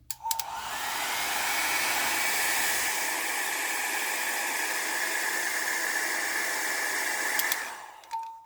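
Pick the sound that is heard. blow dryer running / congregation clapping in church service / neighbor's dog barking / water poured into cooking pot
blow dryer running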